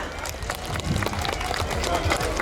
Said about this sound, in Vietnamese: thêm một tràng pháo tay thật lớn cho đội lân và đội rồng của gia đình Phật tử Đại Bi Quan Âm